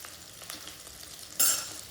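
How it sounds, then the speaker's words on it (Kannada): Green and dry chillies fry in a pan, giving a soft, low sizzle with a few light stirring scrapes and a sudden louder burst of crackling near the end. "4 ಡ್ರೈ ಚಿಲ್ಲಿ ಹಾಕೊಂಡು ಅದು ಚೆನ್ನಾಗಿ ಫ್ರೈ ಆಗಬೇಕು"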